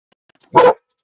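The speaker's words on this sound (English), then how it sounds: "He does bark every now and then." A dog gives a single short, loud bark close by, with silence before and after it.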